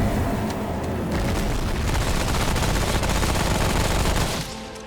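Dense, rapid gunfire from Remnant: From the Ashes fills the clip with loud continuous bursts and booming impacts during a boss fight, cutting off abruptly near the end.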